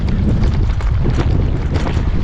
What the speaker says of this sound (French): La pluie et le vent.